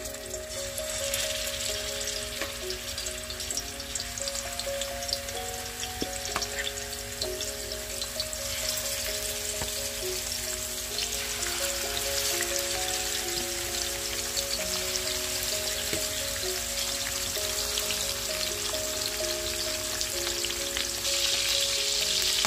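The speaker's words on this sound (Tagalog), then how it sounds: "Kasi lutuin natin yung ating chicken wings." Chicken wings frying in a pan, a steady, close crackle and sizzle of hot oil with scattered pops that keeps going throughout and grows slightly more intense toward the end.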